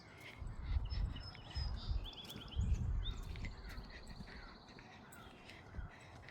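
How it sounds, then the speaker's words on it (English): Birds call in the morning along a quiet riverside road in Maine, a few faint chirps and caws at a distance over low rumbling wind noise. "I love the sound of birds in the morning."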